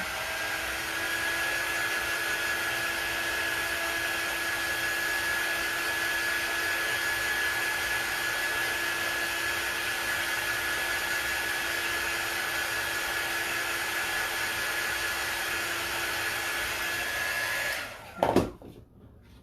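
A hair dryer blows steadily and loudly for a long stretch, drying fresh paint on thrifted wall decor, a constant whirring hum that cuts off abruptly near the end with a brief clunk.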